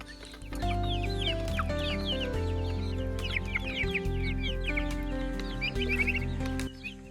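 Chickens cluck and chatter on a farm in Kokrajhar, Assam, a busy overlapping chorus of close bird calls over a steady low background drone, continuing throughout.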